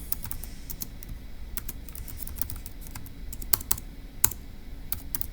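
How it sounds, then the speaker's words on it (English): Keys clatter on a computer keyboard in quick, uneven bursts of close, crisp clicks, with a few sharper louder strokes near the end, over a low steady room hum and no talking. "let's type that up in our notes for section D"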